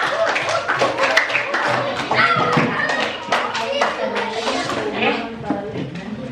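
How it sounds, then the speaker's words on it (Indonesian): Students in a classroom clap their hands together in a dense, steady burst of applause lasting several seconds, with children's voices mixed in under the clapping. "tepuk tangan untuk kita semua"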